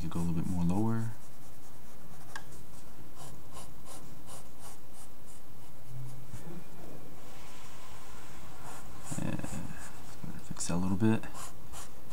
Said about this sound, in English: from the circle, let's go ahead and draw sort of the chin